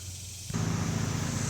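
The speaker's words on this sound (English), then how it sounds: "get some starter fluid and spray it down and scrape this old window tint off" Aerosol can of starter fluid spraying onto old window tint on a car window, a close, loud, steady hiss that starts abruptly after a quiet moment and continues to the end.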